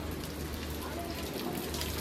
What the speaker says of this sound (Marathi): तर पाऊस चालू आहे